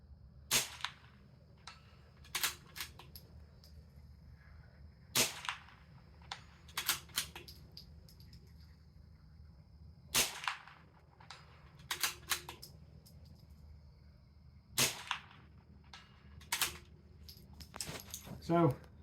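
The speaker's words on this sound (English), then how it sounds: "We're going to take a couple shots out at 200 and get some practice in" Suppressed CZ 457 rifle fired at a target 200 yards away, about ten sharp cracks spaced a couple of seconds apart, some in quick pairs, over a low steady background hum.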